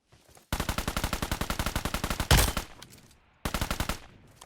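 Automatic gunfire in the PUBG Mobile shooter game: a long, rapid burst of close, loud shots, then a heavy blast that rings out, then a shorter burst.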